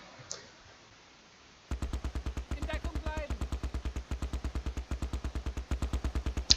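A Vickers machine gun in the Close Combat: Last Stand Arnhem war game fires a long, steady stream of rapid, evenly spaced shots, loud and close, with brief faint talk in the background.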